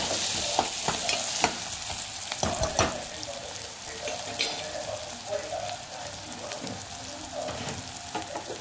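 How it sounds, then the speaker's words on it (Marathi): Tomato and onion cooking in oil in a pan, a close sizzle with repeated scraping and stirring strokes, busier at first and settling into a softer steady frying hiss. "टोमॅटो आणि कांदा चांगला तेल सुटेपर्यंत हे शिजवून द्यायचं"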